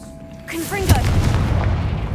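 A fire spell blast sounds in the Hogwarts Legacy video game, a sudden deep boom followed by a crackling, rumbling tail that fills the rest of the moment, with a brief magical whoosh leading into it.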